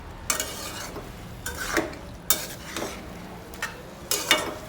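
A spoon stirs cooked broad bean pieces into a tomato curry in a pan, giving about six soft scraping strokes with light sizzling between them, close and alone.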